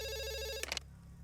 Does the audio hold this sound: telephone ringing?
yes